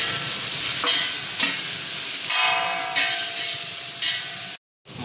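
A large batch of 750 g of onions sautés for butter chicken gravy, a loud, close, steady sizzle with a few scraping strokes of stirring, then a sudden short silence at the end.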